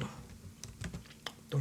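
Computer keyboard typing as a name is entered into a browser form, a few soft, separate key clicks spread unevenly over a quiet background, with no talking.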